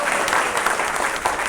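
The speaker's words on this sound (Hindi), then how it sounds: "ताली तो बजा दीजिए भाई" An audience breaks into applause, a dense and fairly loud burst of many hands clapping together.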